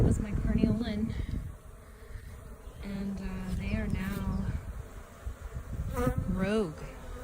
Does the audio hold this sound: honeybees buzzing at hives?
yes